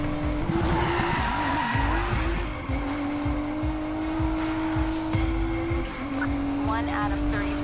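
An Audi S5 fleeing a police pursuit in Need for Speed Payback skids with long tire squeals over engine roar, while a radio voice talks in the background.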